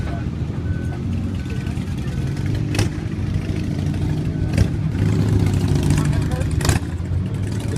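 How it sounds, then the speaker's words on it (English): A police emergency service vehicle engine runs steadily at a car accident scene on Hylan Boulevard while towing a Richmond County ambulance, a constant low rumble with occasional sharp knocks as a voice talks over it. "this police emergency service vehicle is now going to try to tow the Richmond County ambulance from the intersection"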